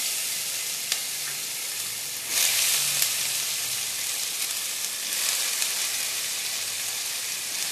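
Chopped potatoes and chilli fry in a hot pan, giving a steady bright sizzle that surges loudly partway through, with a few faint stirring knocks.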